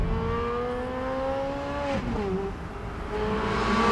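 A Ferrari 430 Scuderia V8 engine screaming at high pitch around 7,000 to 8,500 RPM, rising then dropping sharply at a gear change before climbing again, somewhat distant.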